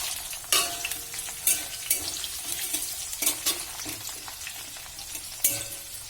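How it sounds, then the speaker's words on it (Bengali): Capsicum pieces frying with cinnamon and cardamom in a pan, a steady sizzle broken by several sharp scrapes and clatters of a spatula stirring, close and fairly quiet with no voices. "ভালো করে নেড়ে চেড়ে নিতে হবে"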